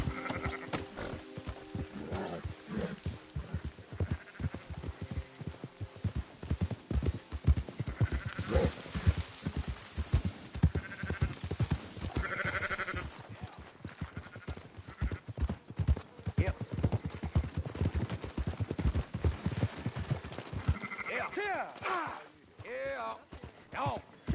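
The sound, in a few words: sheep bleating and horse hooves in video game Red Dead Redemption 2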